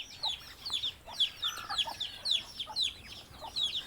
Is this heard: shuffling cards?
no